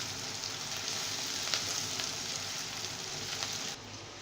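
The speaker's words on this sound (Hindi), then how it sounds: "प्याज को फ्राई होते हुए 1 मिनट हो चुका है" Onion and cumin frying in oil in a pan: a dense, continuous crackling sizzle, close and even, that drops abruptly in loudness just before the end, with no voices.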